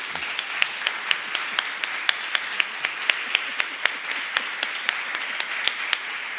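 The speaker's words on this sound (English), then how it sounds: "Let's give them a round of applause." Audience applause after a theatre production, a steady wash of many hands clapping with a few sharper individual claps standing out, fairly even and sustained throughout with no talking.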